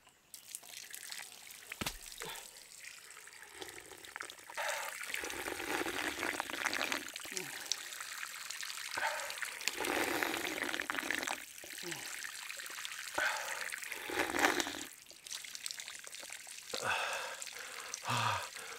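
Water trickles and splashes with a steady, broadband hiss on a hiking trail at Horton Plains, Sri Lanka, while someone talks excitedly over it, his voice rising and falling throughout.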